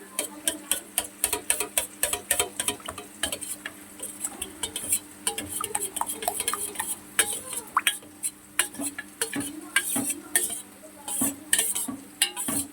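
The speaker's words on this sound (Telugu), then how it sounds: "మనము తోడు పెట్టుకున్న పెరుగుని కొద్దిగా గరిటతో బాగా తిప్పుకోవాలి" Homemade curd being stirred briskly with a ladle in a pot, producing a quick, irregular run of close scraping and clinking taps throughout.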